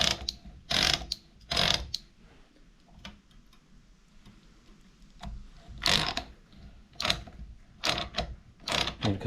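Ratchet and lead screw of a Lewis metal shaper table advance mechanism under repair, giving irregular bursts of sharp metallic clicks and clatter, some close and loud, with quieter mechanical rattling between them and no talk.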